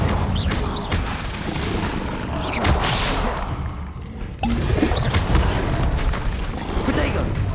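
Incendio fire spell cast in Hogwarts Legacy, a series of booming thuds and whooshing bursts over a rumbling combat background, loud and close, with a brief dip before the action resumes.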